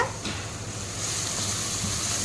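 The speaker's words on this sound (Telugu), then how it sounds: "ఇది కూడా వేసి బాగా ఫ్రై చేసుకుంటున్నాము" A ground paste of onion, green chilli and coriander with turmeric sizzles steadily in a hot pan, a continuous close hiss with light stirring, brightening and growing slightly louder after the first second.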